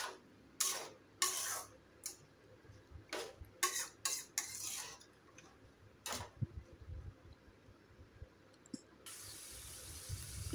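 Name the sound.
stirring carrot and capsicum fry in pan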